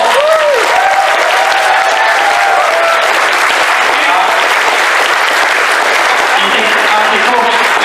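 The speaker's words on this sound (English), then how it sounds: "I'd like to give back our quick applause" A convention crowd bursts into loud, sustained applause and cheering, with voices calling out over the dense clapping throughout.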